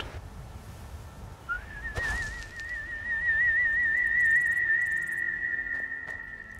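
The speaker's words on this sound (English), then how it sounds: "Basically I whistle, and there's my horse." A single long, steady whistled tone calling a horse in the video game Skyrim, held for several seconds, fairly loud over a low background rumble, with a faint thump just before it.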